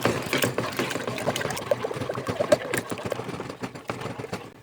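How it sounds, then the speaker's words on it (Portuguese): Cold water is stirred into cornmeal for corn bread, giving soft, continuous wet sloshing with quick spoon scrapes and clicks, close and fairly quiet. "E aqui eu vou colocar 1 xícara de 240 ml de água fria pra misturar aqui, pra dissolver esse fubá."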